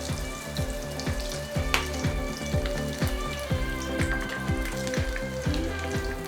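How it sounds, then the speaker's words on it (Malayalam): Kerala-style shrimp (chemmeen) frying in oil makes a steady crackling sizzle that runs throughout, under a rhythmic, tonal background that sounds like music. "അപ്പോൾ ഇതേപോലെ നമുക്ക് ബാക്കിയുള്ളതും ഫ്രൈ ചെയ്തെടുക്കാം"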